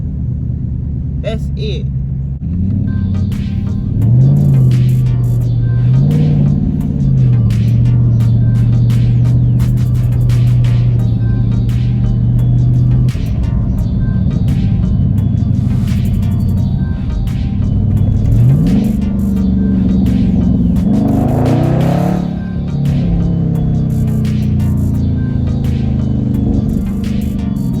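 A 2021 Dodge Charger 392 Scat Pack widebody with its HEMI V8 cruising slowly at about 20 mph, a steady low engine rumble and hum with a brief rev rising near the end, heard from inside under occasional talk.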